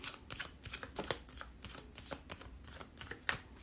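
Tarot cards are shuffled close to the microphone, a quiet, steady run of soft riffling flicks and papery taps with a few sharper snaps.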